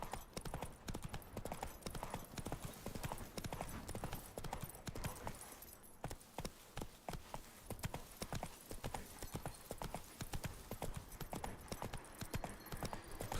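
Roach the horse gallops in The Witcher 3, hooves clip-clopping in a fast, steady rhythm for the whole stretch. The gait runs continuously and fairly close, with a faint voice briefly over it.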